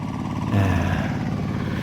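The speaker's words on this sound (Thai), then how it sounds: "ปัจจุบันนี้เขาใช้รถไถเดินตาม แต่ว่านั่งขับนะทุกคน" A ride-on style walk-behind tractor engine chugs steadily and loudly up close while puddling a flooded rice field, its even mechanical drone holding without pause.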